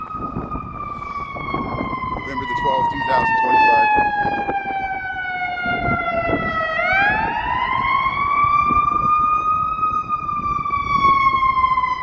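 A loud wailing emergency siren rises and falls close by, sweeping continuously over Chicago city traffic near Streeterville while someone speaks briefly.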